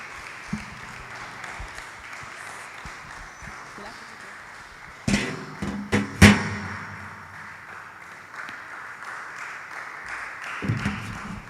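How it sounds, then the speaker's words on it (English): An audience claps at the H-Summit 2025 gathering after a speaker's talk: a steady, moderately distant patter of applause with a few louder thumps partway through. "Please keep clapping."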